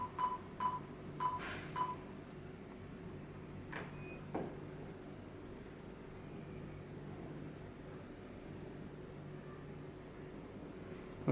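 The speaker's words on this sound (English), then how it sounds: "You can make a phone call." Telephone keypad tones from an Android car head unit in a Hyundai Veloster: a quick series of short, evenly spaced dialing beeps at the start, then a few fainter clicks over a low, steady hum.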